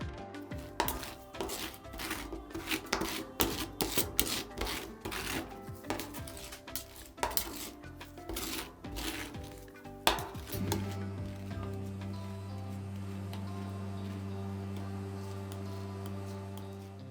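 Metal spatulas scrape and tap rapidly against a hard pan surface while spreading a frozen ice cream mixture, busy and close, then give way to a steady low hum.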